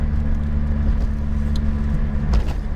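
A lowered car with a rasping exhaust drives along, its engine giving a steady, loud low drone with a slight rough edge throughout.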